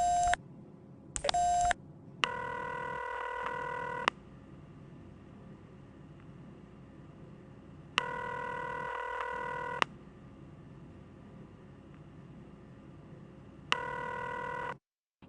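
Electronic tones from The X-Files video game: short dialing beeps followed by three long, evenly spaced telephone ring bursts, loud and clear against a steady low hiss.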